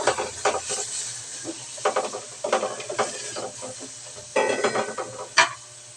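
Food sizzles and fries in a pan, with intermittent bursts of hissing and the clatter of stirring utensils against the cookware, close and fairly loud.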